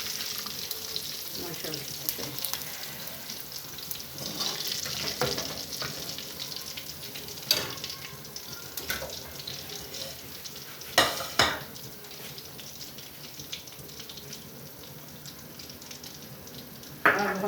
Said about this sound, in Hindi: फिश हमारी बहुत अच्छी फ्राई चुकी है